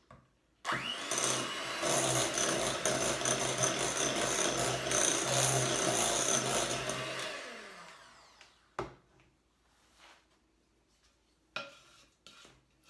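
Electric mixer whirring steadily through a bowl of butter, egg and sugar, loud and continuous for about eight seconds before cutting off, followed by a few sharp clinks and taps of utensils against the bowl.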